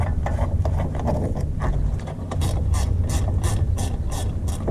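A hand ratchet loosens the brake caliper pin bolts on a 2015 Suzuki Jimny during a brake disc and pad job, giving a close, rapid run of sharp clicking strokes.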